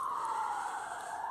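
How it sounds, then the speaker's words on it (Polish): A fire engine or police car siren wails continuously at moderate distance in an outdoor wooded area, a single steady tone gliding slightly as it passes. "Straż pożarna albo policja teraz jedzie."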